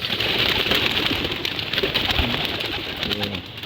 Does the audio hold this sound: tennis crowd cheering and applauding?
no